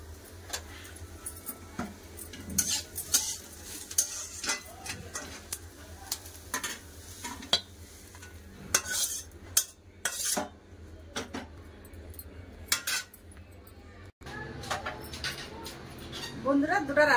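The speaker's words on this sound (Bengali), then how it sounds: "পোস্ত দিয়ে একটু ভালো করে নেড়ে নেবো" Potato and poppy-seed dish stirred and served in a pan, with repeated metal utensil scrapes and clinks against the cookware, soft sizzling underneath and a voice talking over it.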